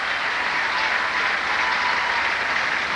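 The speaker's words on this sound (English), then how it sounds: "The applause for Clijsters on the board" Steady, dense applause from a large tennis crowd at Roland Garros, sustained and even throughout with no voices standing out.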